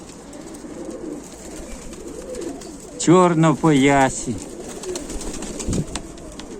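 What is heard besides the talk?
pigeons cooing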